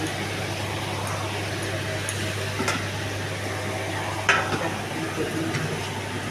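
Bottle gourd seasoned with turmeric and salt is stirred in a pan, giving a steady low sizzle and hiss with a few soft scrapes and clinks of the spoon against the pan.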